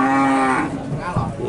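A cow at the Purwantoro cattle market in Wonogiri gives one loud, close, drawn-out moo that fades after about half a second, followed by faint market noise.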